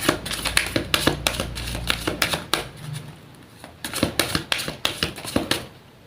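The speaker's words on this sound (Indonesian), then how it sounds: "Saya shuffle terlebih dahulu." Rapid bursts of tarot card shuffling, crisp riffling flicks in clusters with brief pauses between, close and fairly loud with no talking.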